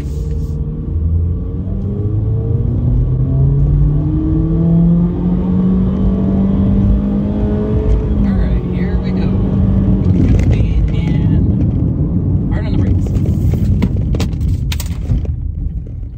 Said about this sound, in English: here's where we do our emergency style braking type test